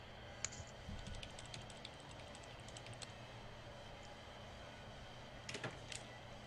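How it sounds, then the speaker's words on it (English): Computer keyboard typing in a home streaming setup, a quick run of light clicky keystrokes in the first few seconds and a short burst near the end, fairly faint against steady room noise. "No, Adam going in on that keyboard."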